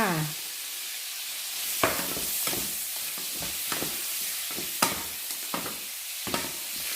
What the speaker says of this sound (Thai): ให้กุ้งสุกประมาณนี้นะคะ แล้วก็จะใส่ ผงกะหรี่ไปสักหนึ่งช้อนชาค่ะ